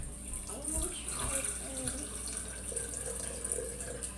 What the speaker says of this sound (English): And then I'm going to put some water in there.